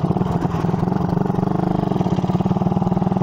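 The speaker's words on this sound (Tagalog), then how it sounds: "Subukan natin yung isang motor nila," A Suzuki Raider 150 motorcycle fitted with an aftermarket exhaust pipe idles up close, its engine putting out a steady, rapid, loping beat.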